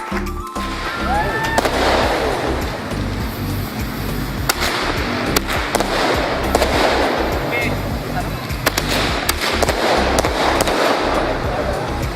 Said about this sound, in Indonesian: ditandai dengan pemukulan beduk dan pemasangan kembang api